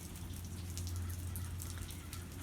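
Rain falls in a backyard, a soft, faint, steady patter and drip over a low background hum.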